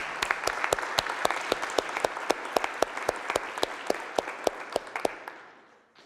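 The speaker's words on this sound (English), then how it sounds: "big round of applause" Audience applause at a 1 Million Cups Kansas City event, a sustained spread of clapping with a few sharp, regular claps standing out near the front, fading away over the last second.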